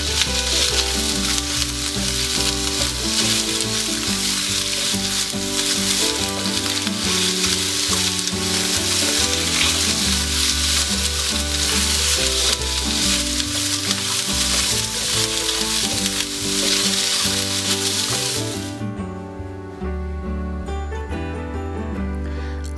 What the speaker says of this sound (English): Fry it for 5 minutes.